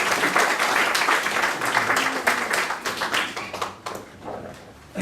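A church congregation claps for visiting pastors at an anniversary worship service, a brisk, full burst of hand clapping that thins out toward the end.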